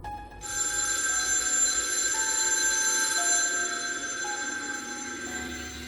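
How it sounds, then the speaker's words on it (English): Telephone ringing on a counter in a haunted woods cabin in a horror game, a steady, loud bell tone sustained for several seconds before fading slightly, heard alone without speech. "And then the phone began to ring again."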